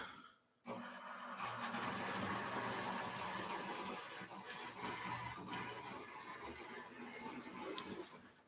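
Steady mechanical whirring hum starts abruptly and runs continuously, a loud model train locomotive, a Chessie U36, droning nearby with faint rattling, no voices.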